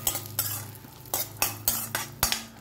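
Cashews and dry fruits fry in ghee while being stirred, a busy sizzle cut by a quick run of about seven metallic spoon scrapes against the pan, close and fairly loud.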